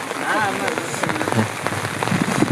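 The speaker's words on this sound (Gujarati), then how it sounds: "વરસાદ ચાલુ જ છે." Rain pattering steadily on a groundnut field in Jamnagar, Gujarat, with scattered drop impacts, while people talk over it nearby.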